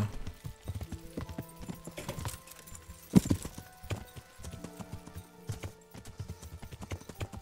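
A horse in the medieval game Kingdom Come: Deliverance walks with steady clip-clopping hooves, close by, with one sharper thud partway through and a faint whinny in the mix.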